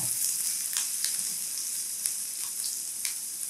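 Green chilies and chili flakes sauté in a hot pan with a steady high sizzle and a few soft stirring clicks, close up and alone.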